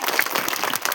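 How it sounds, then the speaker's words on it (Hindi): A brief burst of dense audience clapping at a madrasa annual function, a short crackling wash of many hands heard up close. "जोरदार ताली हो जाए।"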